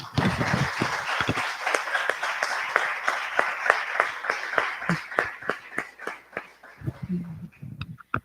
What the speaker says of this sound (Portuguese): eu queria pedir uma salva de palmas para os meninos da transmissão